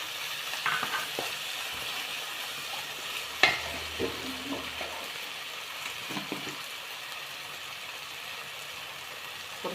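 Ground chili, coriander and masala paste fry in hot oil for a sardine biryani, giving a steady close sizzle broken by scrapes and clinks of a spoon stirring the pan.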